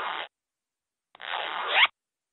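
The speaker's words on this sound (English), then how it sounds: "Zipper!" Clothing zipper zipped in two strokes: a short pull, a pause of about a second, then a longer pull that rises toward the end, close and isolated with no talk.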